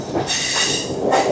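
An express train on the Colombo to Galle line in Sri Lanka runs at speed, a steady close rumble of wheels and carriages with a brighter hissing rush rising through the middle of the short stretch.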